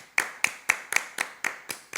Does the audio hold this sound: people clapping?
yes